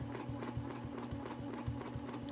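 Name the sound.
sewing machine stitching a holiday quilt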